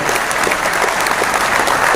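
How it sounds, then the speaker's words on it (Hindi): A packed hall at an entrepreneurs' conference in Jaipur bursts into loud, sustained applause welcoming Commerce Minister Colonel Rajyavardhan Singh, a dense, even roar of clapping up close. "एक जोरदार तालियों के साथ इनका स्वागत करें"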